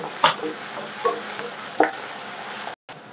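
Pounded ginger, garlic and green chilli paste frying with onions for torai and moong dal sabzi, a soft sizzle with a few sharp spoon knocks against the pan, ending in a brief cut.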